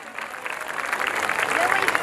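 An audience at an Ambaliya family gathering claps for donors, a dense burst of applause building slightly over two seconds, steady and moderately close with a voice audible alongside.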